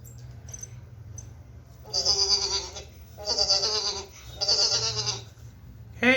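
An EMO desktop pet robot imitates a sheep, giving three loud, evenly spaced electronic bleats over a low steady hum.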